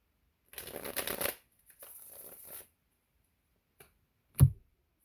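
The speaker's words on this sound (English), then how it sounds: "let me shuffle and see what else comes out" Tarot cards are shuffled up close in two quick riffling bursts, followed by a light tap and a sharper knock as the deck settles.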